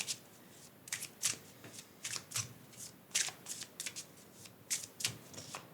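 Tarot cards being shuffled by hand at close range, a run of crisp riffling bursts in an uneven rhythm with no talking.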